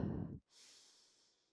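A deep breath during a power yoga flow: a soft, close exhale or sigh trails off after a louder burst at the start, then a brief pause gives way to a faint, airy hiss that fades out.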